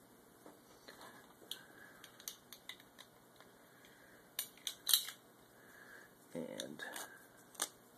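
Scissors snip a piece of twine at close range, sounding as several sharp clicks and crisp cuts spread over a quiet background, with a brief word spoken.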